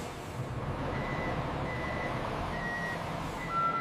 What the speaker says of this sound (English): The loading bay opens to receive the waiting transport truck.